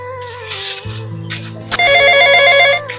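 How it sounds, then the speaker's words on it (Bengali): A telephone ringing indoors: a loud electronic ringtone with repeated bright warbling tones that swells after a short lead-in, with no voices over it. "অঙ্কুশকে কল করি তো।"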